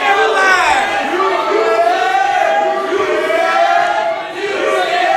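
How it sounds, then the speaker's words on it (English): A wrestling crowd at an RIPW independent show jeers and chants in unison, with loud rising and falling sung voices repeating a taunting pattern at close range. "And now the crowd accusing Chad Skywalker of being scared."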